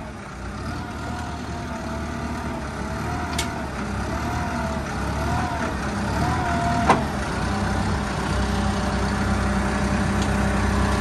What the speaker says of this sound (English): We gotta put another skid steer behind this.